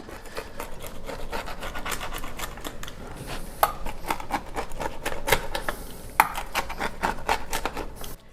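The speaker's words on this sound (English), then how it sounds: "And now we're gonna cut it. And I want you to listen to the crispness of the crust." A knife or pizza cutter slices through the crisp crust of a homemade pepperoni, olive, banana pepper and onion pizza on rectangle dough, giving a steady close crunching and rasping with a few sharper cracks and no talk.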